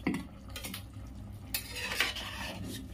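A pot lid lifts off a simmering chicken stew and a spoon stirs in the pan, giving faint, scattered clinks and soft scraping over a low, steady background hum.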